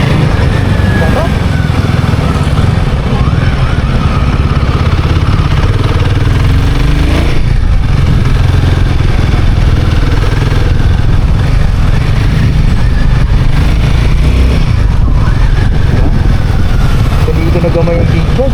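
A Royal Enfield Guerilla 450 roadster's engine hums steadily under heavy wind rush during a test ride. A voice talks over the constant loud drone.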